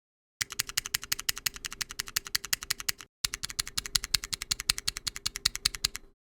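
Rapid, even clicking of key presses on a thnikk RGB osu! keypad with its O-rings removed, close up and alone, in two fast bursts split by a short pause.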